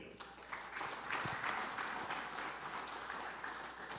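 A church congregation claps in praise during a sermon, a dense, even patter of many hands at moderate distance, with a little voice mixed in.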